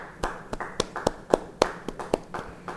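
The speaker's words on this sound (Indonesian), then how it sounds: "beri tepuk tangan yang baik buat Tuhan" A church congregation at a Bible study gives a short round of clapping in praise of God, sparse and uneven, with about a dozen distinct sharp claps spaced across a few seconds in a reverberant hall.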